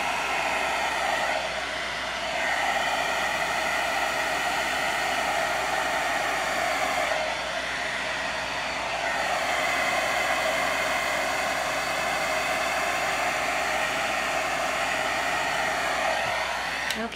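A heat gun blows a continuous, loud, even roar of hot air while melting gold embossing powder on vellum, with slight swells as it is moved side to side and no talking.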